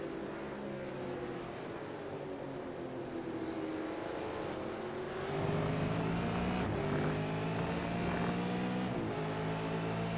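Supercars race on a simulated Aragon circuit in iRacing, engines droning loudly as they accelerate, with pitch climbing through the gears and a second car's engine joining midway, with no voices.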